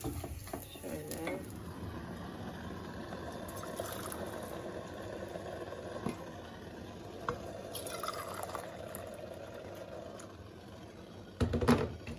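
Water is poured into a pot of rice pilaf, giving a continuous sizzling, liquid wash with a few clinks and stirring scrapes, ending in a louder clatter.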